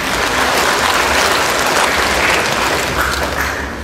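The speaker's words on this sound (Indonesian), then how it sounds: "tepuk tangan dulu buat semuanya" Loud, dense applause from a large crowd of graduates and families at a graduation ceremony in a church, sustained throughout and tapering slightly at the end.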